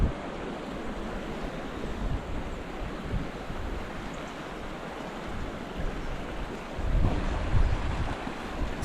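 Fast, rough river water rushing through a rocky channel at a campground, running higher and quicker than usual; a steady, broad roar of churning flow with a louder surge near the end, no voices.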